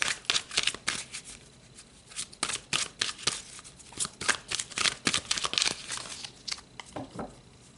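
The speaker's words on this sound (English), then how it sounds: "let's pull some more cards now and go deeper into" Oracle cards are shuffled and pulled during a spiritual card reading, giving a close, steady run of crisp riffling and slapping bursts with no talking.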